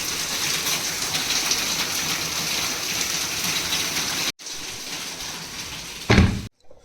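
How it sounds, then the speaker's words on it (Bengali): Constant heavy rain pours down steadily and loudly, a dense unbroken hiss that briefly drops out before resuming, with a louder burst of close splashing near the end. "কনস্ট্যান্ট আড়াই দিন ধরে বৃষ্টি চলছে কোনো ছাড় নেই কনস্ট্যান্ট বৃষ্টি পড়ছে"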